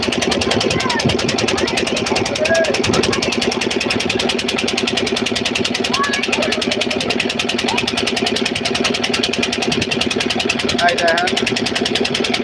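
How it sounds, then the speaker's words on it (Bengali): A motor boat engine chugs steadily and loudly throughout while passing on a flooded river, a continuous rhythmic drone, while a person talks over it. "এখানে একটা নৌকা যাচ্ছে"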